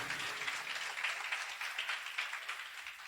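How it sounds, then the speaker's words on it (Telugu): A church congregation claps for the Lord during a Telugu pastor's sermon, a steady dense patter of many hands at moderate distance, continuous and even throughout. "కొట్టు ప్రభువుకి చప్పట్లు కట్ట"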